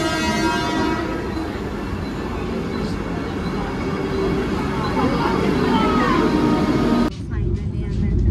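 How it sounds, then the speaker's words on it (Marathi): A Vande Bharat train pulls into a station with a loud continuous rumble and rattle of wagons close by, a steady roar that cuts off sharply near the end, while people talk over it. "बघ, वंदे भारत ट्रेन फायनली आली."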